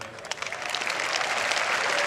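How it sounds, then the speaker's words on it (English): Hand clapping from a crowd, starting scattered and swelling into dense, continuous applause over about two seconds. "I clap for that, bro."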